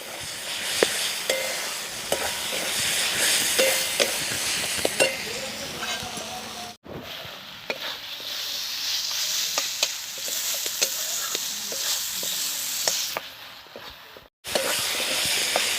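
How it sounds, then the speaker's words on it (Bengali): Spices for chicken curry sizzle steadily in a hot kadai while a utensil scrapes and knocks repeatedly, stirring; the frying hiss continues throughout with brief cuts. "দিয়ে আমি মশলাটা একটু ভালো করে কষিয়ে নেবো"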